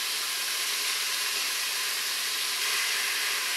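One pound of lean ground beef sizzles as it browns in a Crock-Pot Express pressure cooker, a steady, close, hissing frying sound with no talking.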